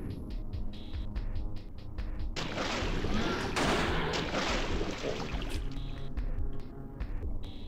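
Gunfire in the PC horror game Alone in the Dark: The New Nightmare, a few sharp shots followed by a dense burst of loud, roaring blasts that fill the mix before fading.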